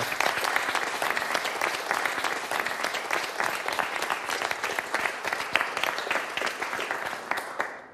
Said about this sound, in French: Donc on peut applaudir Ismo.